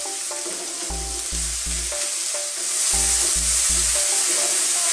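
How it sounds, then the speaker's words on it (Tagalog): Shrimp and tomatoes sauté in a pan with a steady bright sizzle, while a utensil clanks and scrapes against the pan in short repeated bursts. "Again, mag-iigisa lang tayo."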